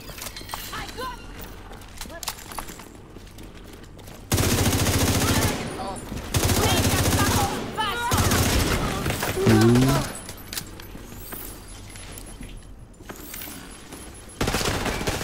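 Pistol gunfire in The Division 2 video game, loud bursts of shots in several volleys amid game effects, with a person talking over the action.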